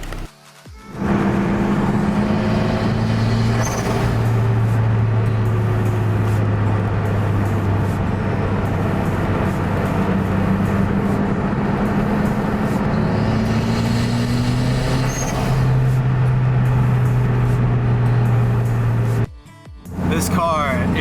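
A turbocharged Lotus Elise drives at speed with a loud, continuous engine drone that rises and falls in pitch through gear changes, heard from inside the car.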